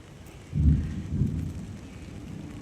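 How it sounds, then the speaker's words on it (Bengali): Steady rain patters in the background with lightning about, while a low rumble of thunder swells and fades. "বিদ্যুৎ চমকাচ্ছে বৃষ্টি পড়ছে ফোটা ফোটা"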